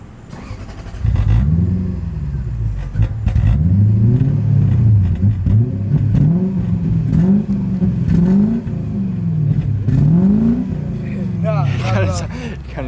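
A lowered Lexus GS430 fitted with a custom exhaust revs repeatedly, its engine rising and falling in steady, loud, close waves for several seconds, while people talk over it.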